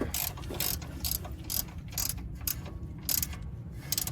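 Hand ratchet wrench clicking as it turns a bolt beneath a 2018 Chrysler Pacifica during steering rack replacement; steady repeated bursts of ratcheting pawl clicks, close and fairly loud, with no talking.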